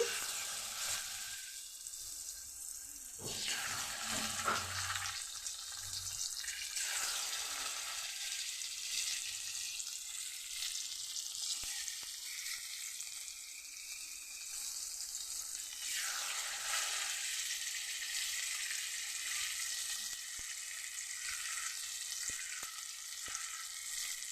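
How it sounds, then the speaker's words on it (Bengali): Katla fish pieces fry in hot oil in a kadai, making a loud, steady, close sizzle and crackle that keeps going throughout, with faint clicks of handling and no talk. "মাছটা ভাজা করার জন্য এখানে কড়াতে আমি কিছুটা তেল দিয়ে দিয়েছি তেলটা গরম হয়ে গেছে এখন আমি মাছটা দিয়ে দিচ্ছি"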